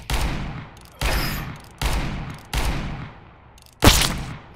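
Five loud gunshots from the R8 Revolver in the video game CS:GO, fired at an even, unhurried pace about a second apart. Each shot is sharp and booming, with a decaying tail.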